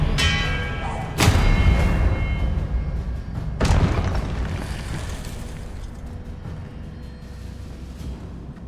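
Expelliarmus spell impacts in the video game Hogwarts Legacy land as two heavy booming blasts a few seconds apart, each with a sharp crack and a long rumbling decay, loud and close, with no speech.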